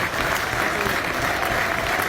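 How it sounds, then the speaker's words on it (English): Crowd on its feet applauding at Aggborough during a Kidderminster Harriers versus Salford City National League North football match, home and away fans clapping together; dense, steady, continuous stadium applause throughout. "Round of applause and chance go up for a former Kidderminster Harriers fan, Ben Langdon."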